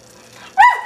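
A little girl pretending to be a dog gives a single short, close bark-like yelp, imitating a dog with her voice after a moment of quiet.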